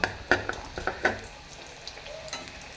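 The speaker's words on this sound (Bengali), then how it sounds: "তেল গরম হয়ে গেছে, তেলটা সামান্য রুটি আমি দিয়ে ভেজে নেব" Pieces of roti fry in hot oil for crispy chips, with a soft crackling sizzle and a handful of sharp clatters and taps at the start, then quieter bubbling.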